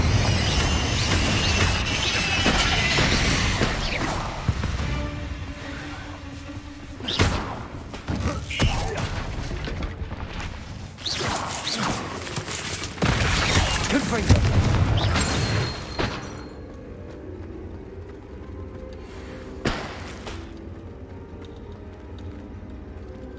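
Confringo blasting spells go off repeatedly in Hogwarts Legacy, a series of loud booming explosions and sharp bursts scattered across a spell-filled battle, with a voice calling out over the noise.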